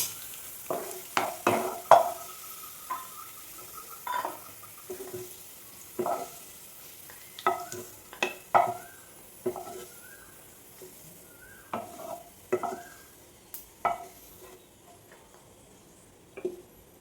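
Raisins frying in oil as they are stirred, a quiet background sizzle broken by repeated sharp spoon taps and scrapes against the pan at an irregular rhythm.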